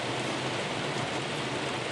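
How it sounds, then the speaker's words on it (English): Heavy rain pounding on a car from inside the cabin, a dense, steady hiss of drops drumming on the roof and windows, constant and close with no voices. "it started raining like really, really, really hard"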